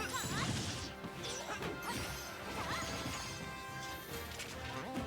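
Forward smash attacks land in a Super Smash Bros tournament match, sharp crashing hits and whooshes layered over busy game music and effects.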